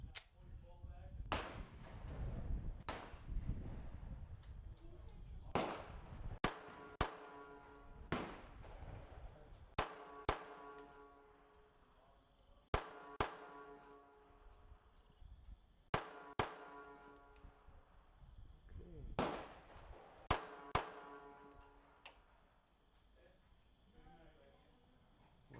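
A Sig P365 chambered in .380 fires double taps at a challenge card. Sharp, loud shots crack in quick pairs and singles, about a dozen spread across the sequence, with short pauses between strings.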